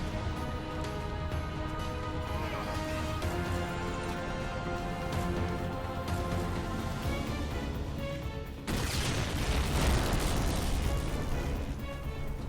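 A sudden, loud explosion bursts out in the Halo 4 Spartan Ops finale late in the clip, breaking over a sustained game soundtrack and rumbling on to the end.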